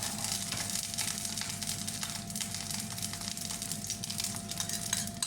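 Oil sizzles steadily in a wok over medium-low heat while tamarind sauce for fried tofu is stir-fried, with occasional utensil scrapes and clinks over the continuous hiss.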